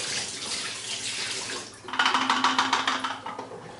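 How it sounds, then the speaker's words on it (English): Rinse water dumped out of a 120 film developing tank into a sink, first a steady rushing pour, then a sharper run of splashing, gurgling bursts as the tank empties, close and moderately loud with no speech. "you may want to dump out your tank once here just to make sure you have a full change of water"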